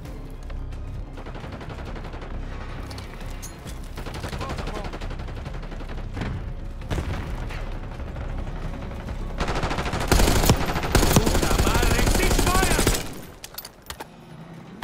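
Bursts of automatic weapon fire in the Black Ops 6 Kill Order mode on the SCUD map, rapid crackling shots that build and grow loudest near the end before cutting off abruptly.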